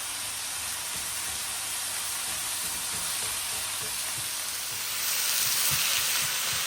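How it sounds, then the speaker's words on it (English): Continuous bright sizzle of beef and onions browning in a pan, close and steady, swelling slightly louder toward the end. "She's really got a sizzle on here now."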